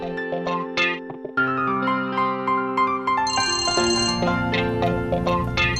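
A phone ringtone sounds for an incoming call, a bright melodic electronic tune of repeating tones that grows fuller partway through, playing on its own at moderate volume.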